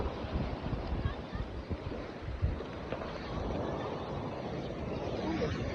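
Sea waves rolling onto a beach in September, with steady wind buffeting the microphone, a continuous surging wash and rumble while people talk nearby.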